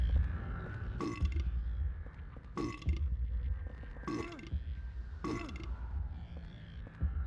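Characters burping in Silent Hill 4: The Room, four loud, drawn-out belches spaced about a second and a half apart, each rising over a steady low hum of game ambience.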